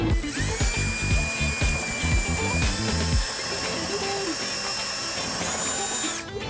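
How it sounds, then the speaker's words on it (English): A power drill whines at high speed as it bores a 5/16-inch pilot hole through the metal frame of a 2005 Dodge Neon for a trailer hitch, its pitch shifting as the bit bites and then spins more freely. "we're not damaging that with the drill when we're creating our hole"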